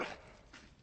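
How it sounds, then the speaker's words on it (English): Dog whimpering in the video game Dragon Age Origins, one short faint whine followed by a softer second whimper, alone and brief. "Bloody dog."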